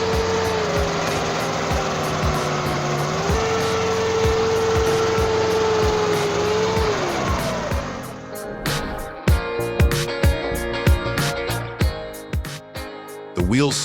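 A John Deere tractor working hard in mud, its engine droning loud and steady for several seconds before dropping off, followed by scattered knocks and clunks.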